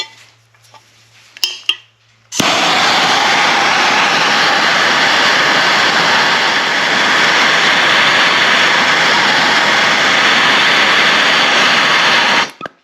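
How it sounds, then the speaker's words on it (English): A MAP gas torch roars steadily for about ten seconds as its flame heats a cut masonry nail, loud and close, after a few short clicks and hisses at ignition. "We're going to turn back to our map gas."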